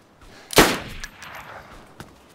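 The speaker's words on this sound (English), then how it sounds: "Oh, that was my only bullet in the Mosin." A single loud Mosin rifle shot in the survival game DayZ cracks out sharply and fades, followed by faint rustling and one small click, with no voices.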